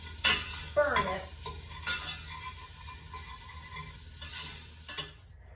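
Bacon is stirred as it fries in a pan, with a steady sizzle under scraping and clinking utensil strokes, close and fairly loud. A sharper clatter comes near the start and another near the end.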